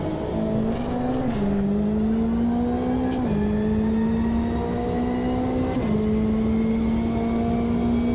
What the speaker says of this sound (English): it's a faster class car approaching